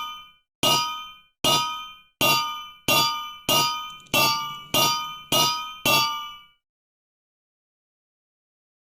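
Nine sharp metallic clangs ring out from an anvil in a Minecraft magic mod, evenly spaced about two-thirds of a second apart, each bright strike decaying quickly, followed by silence.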